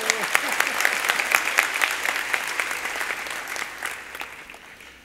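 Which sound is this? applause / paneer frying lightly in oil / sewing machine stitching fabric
applause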